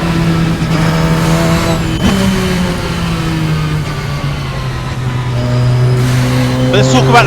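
Radical SR10 XXR race car running on track, its engine droning loud and close with shifting pitch as it accelerates and eases off, a brief squeal near the end, while someone talks over the engine.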